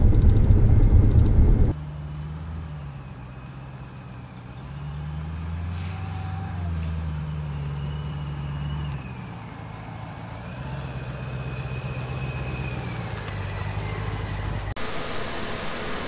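A Jeep making 646 rear-wheel horsepower on MS109 fuel settles into a low, steady idle rumble with slight rises and dips in pitch after a brief loud burst at the start.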